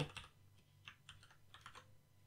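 Fingers type on a computer keyboard while coding a Flask web page, giving quiet, close, irregular clusters of key clicks with short pauses between bursts.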